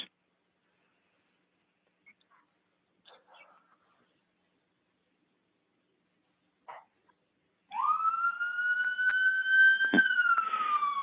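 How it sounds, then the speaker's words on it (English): A siren wails in the distance, rising and falling in pitch for a few seconds after a long stretch of near silence with a few faint clicks. "Sorry about the siren in the background."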